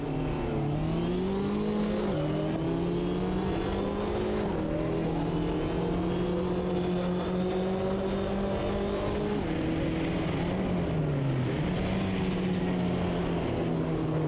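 MINI Cooper JCW race car engines roaring at a race start in Automobilista 2 in wet British weather, a loud, continuous rising drone from a pack of cars with pitch swells as gears change.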